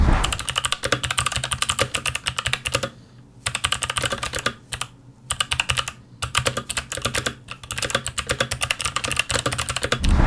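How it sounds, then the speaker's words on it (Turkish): Rapid, steady clacking of an MSI Vigor GK50 Elite mechanical keyboard with Box White switches being typed on up close, with a few brief pauses between bursts. "bu Box White sesli bir anahtar ve kendine has bir sesi var"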